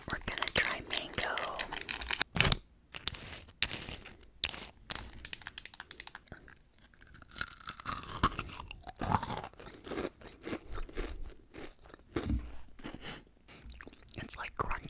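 Mango-flavored edible crystal candy crunches loudly and close up in repeated bites and chews, the crisp sounds alternating with whispering.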